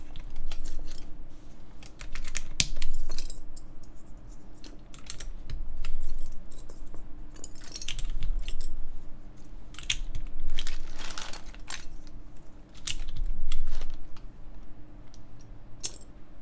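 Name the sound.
typing on mechanical keyboard, MX Brown switches, GMK keycaps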